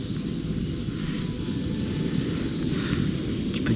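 Gas camping stove burning outdoors in snow at about -5°C, a loud, steady roaring hiss of the flame heard close up without pause, with no voices.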